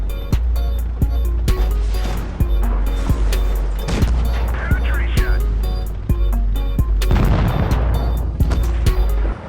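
FCM tank cannon fire in a tank video game: repeated sharp booming shots at a regular pace over a constant low engine drone, with a voice talking between some of the blasts.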